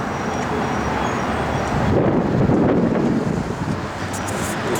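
Cold spring wind gusts outdoors on a chilly day with a few snowflakes around, buffeting the microphone in a loud, continuous roar that swells briefly in the middle before easing, with no one speaking.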